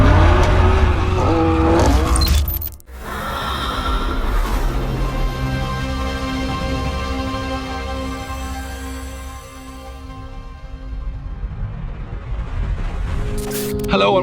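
A Toyota GT86 drift car with an LS7 V8 revs hard, the engine roaring and climbing in pitch through rising tones, with a brief drop near the start and tyre noise mixed in.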